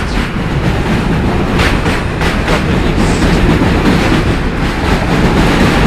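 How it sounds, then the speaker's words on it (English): An elevated M train rumbles past in New York City with rhythmic clickety-clack from its wheels, loud and close, while a voice speaks briefly. "And the M train."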